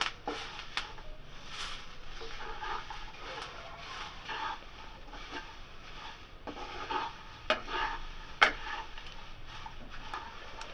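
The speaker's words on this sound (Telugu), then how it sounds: "ఇందులో మనం తీసి పెట్టుకున్న జొన్న అటుకుల్ని అందులో వేసి 2 నిమిషాల పాటు బాగా వేయించుకోవాలి" Jowar (sorghum) flakes tossed with spices in a pan give faint, repeated scraping and light tapping from the stirring spoon over a soft, continuous sizzle.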